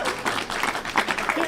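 A congregation at a Sunday talk applauds their ministers in a short, fairly close burst of mixed clapping, with a little crowd murmur underneath.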